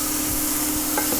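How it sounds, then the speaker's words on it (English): Onions stirred in a pan while baked beans are being cooked, a soft continuous scraping and sizzle with a few faint utensil knocks near the end, steady and close, with no talking. "Give them a stir."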